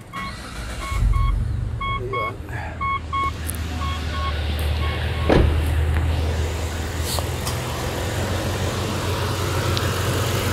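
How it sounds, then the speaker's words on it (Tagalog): A Mitsubishi Pajero 4x4 engine cranks with a few chimes and settles into a steady low idle rumble, close by, with brief speech over it. "Engine start."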